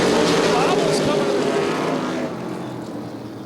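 ARCA/CRA Super Series race cars roar past at Baer Field Motorsports Park, a loud engine surge that fades as the field moves away, while an announcer talks over it.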